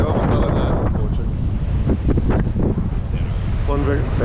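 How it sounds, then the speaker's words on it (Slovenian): Strong wind of about 17 knots buffets the microphone aboard a sailing yacht making 7 knots near Ibiza, a steady, loud roar mixed with water noise and hull sounds, and a voice briefly talks over it. "Mava 17 vozlo vetra, greva z 7 vozli."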